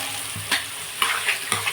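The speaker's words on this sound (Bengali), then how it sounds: "এবার এই পেঁয়াজটাও না খুব সুন্দর করে ভাজা হতে লাগবে।" Onions fry in a pan, giving a close, steady sizzle with bursts of scraping stirring about every half second.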